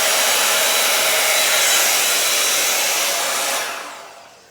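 A hair dryer blows steadily and loudly across an acrylic paint pour for a split base Dutch pour, a broad rushing whoosh that holds for several seconds, then fades as it is switched off or pulled away.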